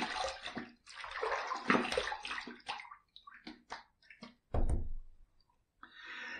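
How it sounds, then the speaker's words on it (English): Tap water splashes and runs in short bursts while a razor is rinsed after shaving, with intermittent sloshing and clicks close by in a bathroom sink. "Let's rinse."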